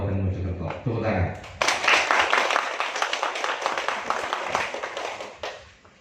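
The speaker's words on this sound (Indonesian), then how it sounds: "Tepuk tangan." A crowd at a village Karang Taruna youth-group event in Mojokerto breaks into applause, a burst of many close hand claps that follows a spoken line and fades over a few seconds.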